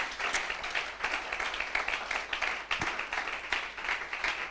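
A church congregation applauding, a steady moderate wash of many hands clapping throughout, with a faint voice underneath.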